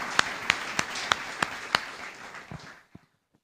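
A church congregation claps in a steady, evenly spaced rhythm, about eight sharp claps, before the clapping falters and fades out into silence.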